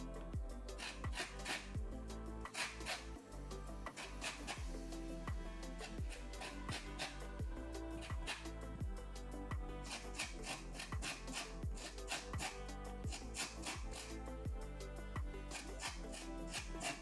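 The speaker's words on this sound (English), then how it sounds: "we're going to zest our lemons" Lemons are rasped across a metal zester in a home kitchen, giving soft repeated scraping strokes in an uneven rhythm, close and quiet, with light clinks against the bowl.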